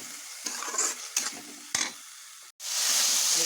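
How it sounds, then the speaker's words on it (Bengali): Spices with a little sugar and sour yogurt being stir-fried for Bengali pangas fish bhuna: a loud sizzle broken by several spoon scrapes, a brief cut to silence, then a steadier, brighter frying hiss. "এইবার খুব ভালো করে মশলাগুলো কষিয়ে নেব।"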